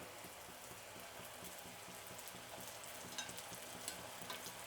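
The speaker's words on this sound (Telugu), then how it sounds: "అప్పుడు రౌండ్కి చుట్టూరా వేగుతుందండి." Honey sweets frying in hot oil, a steady, even sizzle that carries on throughout at moderate level, with a few faint crackles near the end and no voices.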